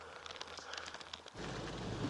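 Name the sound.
rain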